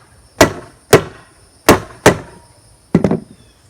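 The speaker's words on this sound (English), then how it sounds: "I'm going to take my hammer tacker." A hammer tacker drives staples to hold carpet pulled tight over a jon boat deck being built into a bass boat deck, giving five loud, close, sharp whacks at uneven spacing, the last a quick double strike.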